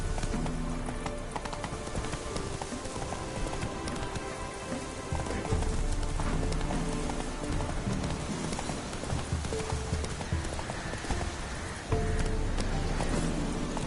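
Horse galloping in The Witcher 3, steady rapid hoofbeats pounding close and loud for the whole stretch over a constant patter like rain, with no voices.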